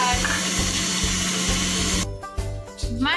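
A carrot juicer whirs loudly and steadily as carrots are pressed into it, a continuous mechanical grinding drone that breaks off partway, then stutters in short bursts.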